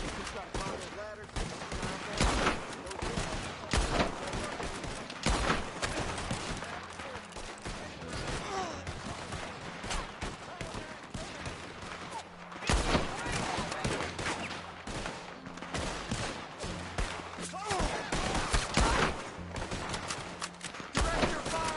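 Dense gunfire in the online western game Red Dead Online, with rapid overlapping shots and bursts rattling almost nonstop through a battle to retake a barricade, loud and continuous with game chatter mixed in.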